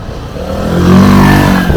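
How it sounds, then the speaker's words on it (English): A car passes close by on a Budapest street, its engine note rising and swelling over about a second with a slight clatter, loud and nearby against background traffic noise. "Car coming."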